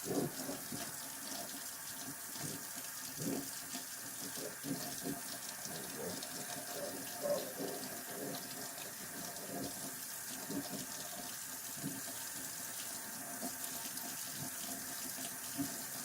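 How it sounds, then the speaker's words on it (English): Tap water running steadily into a sink while a hookah is rinsed and cleaned, a soft continuous stream with faint clinks of handling. "turn on your water, make sure it's going in the purge valve"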